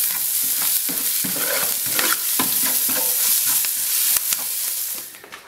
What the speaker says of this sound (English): Give this all a good mix.